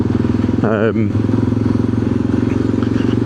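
A Yamaha XT600 dual-sport motorcycle engine revs high and holds a steady, buzzing drone, close and loud, with a brief higher whine partway through.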